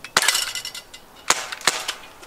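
A little pink toy gun being fired during family play, three or four sharp snapping pops spaced irregularly, close and fairly loud, with no talking.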